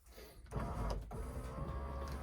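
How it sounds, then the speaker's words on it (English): A car's electric power window motor raises the glass with a continuous mechanical whine that starts after a short silence, runs steadily and ends with a louder thump at the top. "Can I finally put this window up?"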